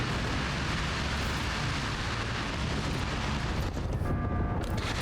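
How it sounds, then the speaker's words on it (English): Gunfire and explosions in the video game Outpost Infinity Siege form a dense, continuous roar of booms and rattling shots, loud and unbroken throughout with no talking. "Hit with such an overwhelming amount of gunfire."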